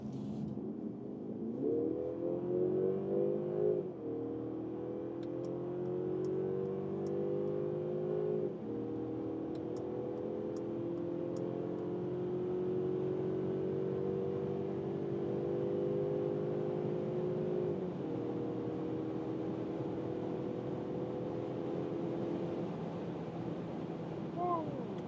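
Mercedes CLE coupe accelerating hard in sport mode, its engine note rising through the gears in long climbing sweeps with gear-change dips, heard steadily from inside the cabin with faint road noise.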